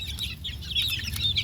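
A batch of chicks peeps continuously in high, overlapping chirps, close by and fairly loud, with no talking.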